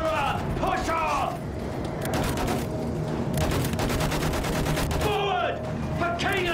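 Machine gun fire in Battlefield 1 trench combat, long sustained bursts of rapid automatic shots with booming battle noise around them, loud and continuous, with shouted voices breaking through at times.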